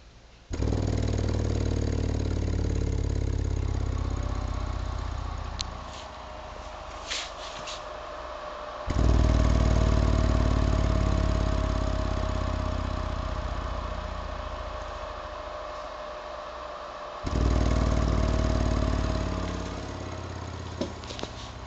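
A Lightning Lab 12-inch subwoofer with 30mm excursion is tested and vibrates in three long, loud, deep rumbling bursts separated by quieter stretches, with a faint tone running underneath.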